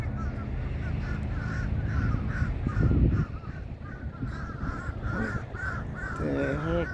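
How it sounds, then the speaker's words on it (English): Crows caw repeatedly in a steady series of harsh calls, moderately close, over wind-like outdoor noise, with a person talking at times. "Never saw crows here. I only see vultures. This is a treat."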